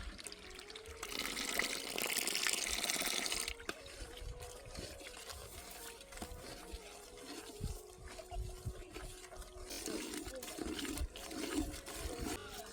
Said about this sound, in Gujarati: હવે નાખશું આપણે 1 ગ્લાસ પાણી.